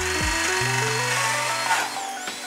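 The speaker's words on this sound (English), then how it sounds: "So let's get drilling." A power drill with a core bit spins up loud and close while cutting a planting hole in a vertical garden, its whine rising in steps and then settling.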